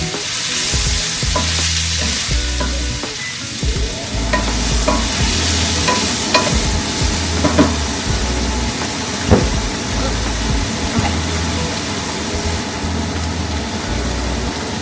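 Vegetables cooking in a pan on a home stove, with a steady low sizzle and a low hum under it, plus occasional scraping stirs and light clinks, fairly close and continuous with a brief voice at times.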